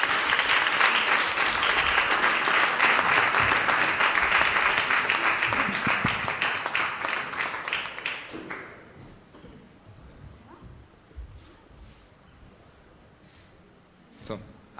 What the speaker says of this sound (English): An applause to the winner